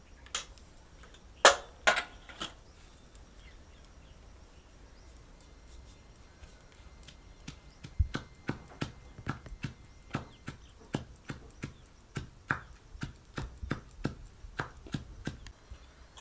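Green chillies and garlic pounded with salt, a run of sharp, evenly spaced thuds gathering into a steady rhythm after a few scattered knocks, close and clear with no talk.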